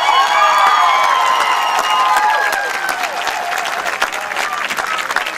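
A large crowd at a high school marching band assessment event applauds loudly with scattered cheers and whistles, a steady wash of clapping that eases slightly after the first few seconds.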